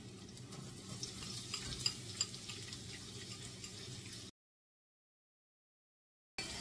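Garlic and onion frying in a pan while cooking Filipino beef blood stew, a steady close sizzle with light stirring ticks for about four seconds before cutting to silence, then resuming briefly.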